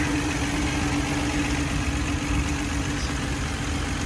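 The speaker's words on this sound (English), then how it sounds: "Has the overhead valve, straight 6 in it, very good engine for Rambler." A Rambler's overhead-valve straight-six engine idles steadily with a smooth, even low rumble and a constant hum, no other sounds present.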